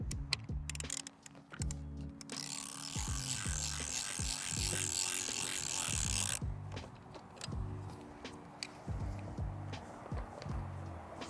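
Crank on a Ravin crossbow being wound back, producing close, repeated ratcheting clicks in a regular rhythm, with a brief stretch of louder rushing noise in the middle and no talk.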